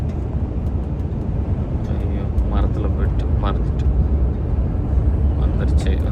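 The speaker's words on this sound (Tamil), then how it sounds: "இந்த அவங்க ஃப்ளைட் இறங்குது." Airliner coming in to land over a road in Europe, a loud continuous low roar filling the scene while people in the car talk excitedly over it.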